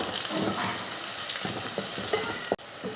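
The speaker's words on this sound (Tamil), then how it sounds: "வெங்காயம் நல்லா வதங்கினதுக்கப்புறம் ஒரு 4-5 போல் பூண்டு பழம் இந்த மாதிரி சின்னதாக வெட்டியிருக்கேன், அதையும் சேர்த்துட்டு வதக்கிடலாம்" Sliced onion and chopped garlic sauté in oil with a close, steady sizzle, a spoon stirring and scraping the pan at intervals, then one sharp knock near the end.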